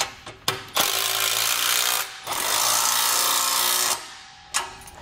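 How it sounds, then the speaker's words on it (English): A power tool whirs in long bursts while tightening bolts on a Malone MicroSport trailer, with short clicks and pauses between runs, loud and close with no talk. "Now we'll just tighten up all the bolts."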